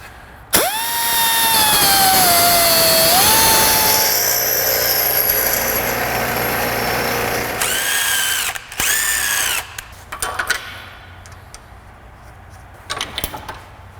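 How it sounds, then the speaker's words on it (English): A power tool runs at a steady high whine for several seconds as a shortened Fox Body fuel tank part is worked on a wire wheel, its pitch dipping under load, then stopping and restarting in short bursts with clatter. "just start with shortening it and taking it over to the wire wheel"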